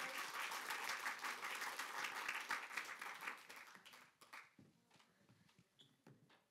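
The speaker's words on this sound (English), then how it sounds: "So what a fantastic panel. Round of applause." A seminar audience claps for a panel of speakers, a dense round of applause at first that thins out into scattered individual claps before fading.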